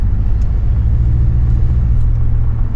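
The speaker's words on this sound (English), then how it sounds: "We're just gonna drive on down to Thunder Hole" Car driving along Park Loop Road in Acadia National Park in cold winter weather, heard from inside as a steady low engine and road rumble with no breaks.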